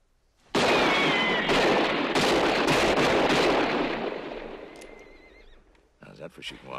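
A gunshot from a western film cracks out sharply, followed by several more loud bursts that ring and echo before fading over a few seconds, with a brief rustle at the end.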